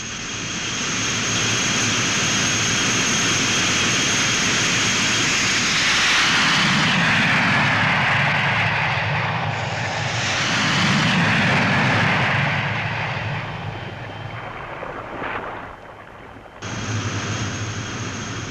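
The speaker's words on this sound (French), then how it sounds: "Le porte-avions vient debout au vent pour catapulter 2 étendards" Étendard jet aircraft launch by catapult from an aircraft carrier steaming into the wind: a loud, sustained high jet whine and roar that swells and shifts, drops briefly near the end, then resumes.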